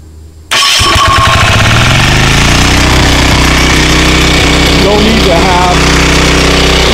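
ETQ diesel generator engine kicking on after a moment of quiet, then running loud and close with a steady heavy chugging rumble and rising whine as it settles to a constant pace.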